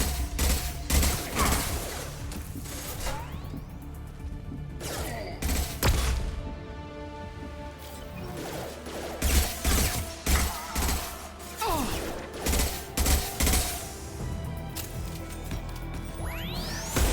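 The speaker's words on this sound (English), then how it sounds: "Taking fire!" Bursts of gunfire crackle through a Mass Effect 2 battle on Horizon, rapid volleys and heavy impacts coming in clusters, loud and close, while voices call out between the shots.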